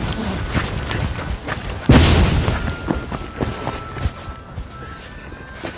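A reenactment gunpowder blast beneath a stone castle keep at Bridgnorth, Shropshire, lands as a single deep boom about two seconds in, then a long rumbling tail with scattered thuds and crackles from falling debris.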